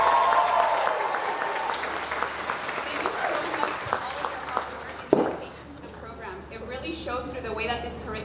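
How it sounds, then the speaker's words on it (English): An audience at a medical school graduation claps in sustained applause for several seconds, then it fades as a voice talks over the room. "Can we please get a round of applause for them?"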